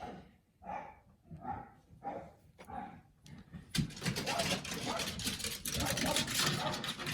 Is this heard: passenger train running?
no